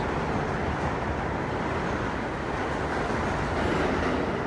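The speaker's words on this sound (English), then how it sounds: "Or if the train audio is too low." A New York subway D express train in motion, a loud continuous rumble and roar of wheels on rail, steady throughout with no voices.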